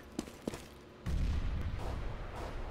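A grenade explosion in the Overwatch video game: a couple of light clicks, then a sudden heavy low boom that rumbles on steadily, fairly close and loud, with no talking.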